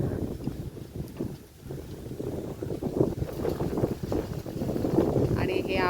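Strong gusting wind roars across the microphone outdoors during a storm, a steady broadband rush that swells louder toward the end, with a voice faintly mixed in.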